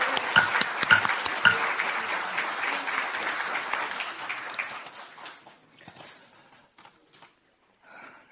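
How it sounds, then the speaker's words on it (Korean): Dense, loud applause fills a hall at a party's central founding convention as members unanimously approve two co-leaders, then thins out and fades to near silence before a brief final stir. "이의가 없으면 당원 동지들의 만장일치 박수로 윤영덕, 백승하 당원을 공동대표로 선출합니다."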